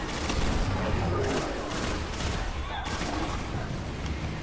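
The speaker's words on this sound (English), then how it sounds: "Sometimes gotta switch to the fusion rifle." A fusion rifle firing in the Destiny video game, a dense, roaring barrage of energy blasts that runs continuously at high level with little gap between shots.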